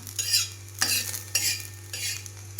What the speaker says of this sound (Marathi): हा लसूण मी आता थोडासा गरम करून घेणार आहे.